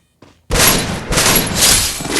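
A loud burst of gunfire from a shooter video game starts abruptly after a faint thump, then a sustained fusillade of close, dense shots rolls on in waves for about two seconds with no one talking.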